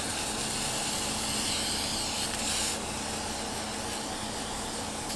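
A continuous hissing spray from a spray can, loud and close, applied to a bike, running without pause for several seconds.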